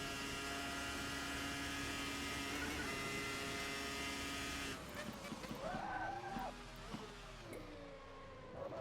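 A Formula RSS 2000 V10 race car in a racing video game at 1966 Spa holds a high, steady engine whine, then shifts and revs through changing pitch as tyres scrub, while someone talks faintly underneath.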